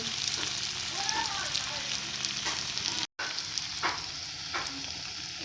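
Spice masala fries in oil that has separated out, making a close, continuous crackling sizzle with occasional stirring scrapes and one very brief dropout.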